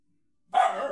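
A dog gives one sudden, loud bark close by after a moment of near silence.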